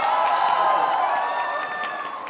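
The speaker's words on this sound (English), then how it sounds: "can we have a round of applause to cheer me up" A crowd at a hosted Amazon event in Bangalore applauds and cheers, a steady wash of clapping with scattered whoops that gradually fades.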